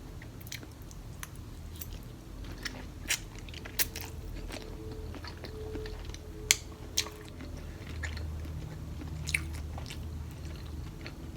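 Someone eating garlic butter noodles with shrimp, soft chewing and occasional crunchy bites and smacks up close over a quiet room hum, with no talking.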